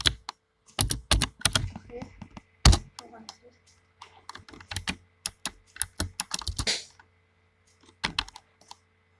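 Typing a message on a computer keyboard up close, bursts of rapid key clicks with short pauses and a few heavier key thunks.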